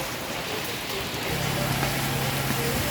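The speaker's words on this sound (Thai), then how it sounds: "ฝนตกพี่น้องเอ้ยฝนตก จะกลับบ้านนะครับ" Steady rain pours down at a taxi stop, a dense continuous hiss of drops hitting surfaces, with a low engine-like hum joining in partway through.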